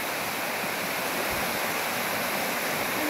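Stone Mountain Falls, heard from the top of the falls, pours as a loud, steady, broadband roar of rushing water that fills the whole clip without a break, with no one speaking.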